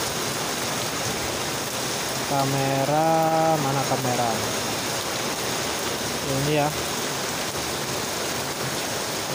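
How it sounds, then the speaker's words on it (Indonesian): Steady rain falls outdoors in Kediri, a constant hiss of drops on surfaces, while someone speaks briefly twice over it. "Dan ini saya tunjukkan kalau di sini hujan."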